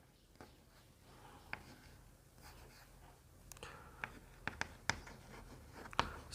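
Pen strokes scratch across paper as an answer is written by hand, with soft continuous scribbling and a few sharper taps, close and quiet.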